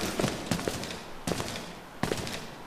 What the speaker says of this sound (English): Guess I'm supposed to use my machine gun more often.